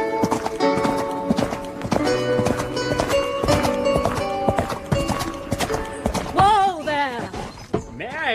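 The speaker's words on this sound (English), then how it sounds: "Perhaps he can hear the sound of my horse." A horse's hooves clip-clop in a steady trotting rhythm under an orchestral music score, with a brief tonal cry near the end, set in a period drama by a prison building on the Cornish coast.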